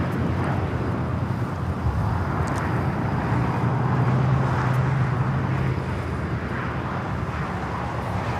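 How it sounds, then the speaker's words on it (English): An Alaska Airlines Boeing 737 MAX 9 takes off from LAX, a steady, broad roar of jet engine noise with a low hum, fairly loud and constant, mixed with light wind; no talking. "That is Alaska Airlines 1083 taking off to Seattle on the MAX 9"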